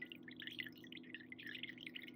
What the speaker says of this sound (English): So you just pour, and you see the little rice bits getting in there